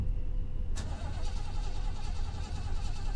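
A car engine in a video game turns over and catches with a sudden burst, then settles into a steady, loud rumbling idle that continues throughout.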